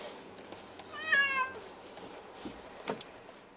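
Cats, one of three household cats, give a single clear, drawn-out meow near the start, followed by fainter, brief cat sounds against a quiet background.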